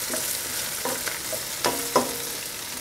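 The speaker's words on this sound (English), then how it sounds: "they fry it together with the onions" Rabbit pieces fry with onions in a pan for an Italian rabbit cacciatore: a steady close hiss with several sharp spoon clicks and scrapes as the pieces are stirred, no talking.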